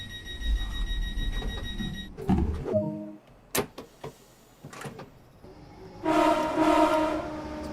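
A train in Train Sim World 2 runs with mechanical clunks and rumbling, then a loud, sustained multi-tone horn blast near the end.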